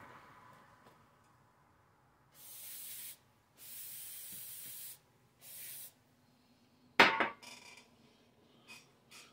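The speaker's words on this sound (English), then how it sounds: "put a squirt of brake clean on it" Brake cleaner is sprayed onto a damaged Stihl 3/8 low-profile carbide chainsaw chain in three short hissing bursts, followed by a sharp metallic clank and a few faint ticks in a quiet workshop.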